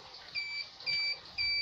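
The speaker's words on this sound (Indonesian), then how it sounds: "Nah, terjadi bunyi bip bip ya" A Fardriver ND 72260 motor controller beeps at power-on, three evenly spaced electronic tones, each about a quarter-second long, clear and close over a low hiss.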